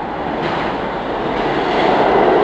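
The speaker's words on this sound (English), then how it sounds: "Train is coming." A train pulls into a station, its steady broadband rumble and rolling roar loud and continuous, building slightly toward the end with no talk over it.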